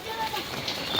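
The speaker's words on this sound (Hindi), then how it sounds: "नॉन स्टॉप बारिश हो ही जा रही है" Heavy, non-stop rain falling in a steady broadband wash, close and continuous for about a second with no pauses.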